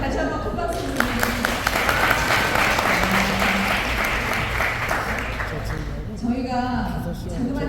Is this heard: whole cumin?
no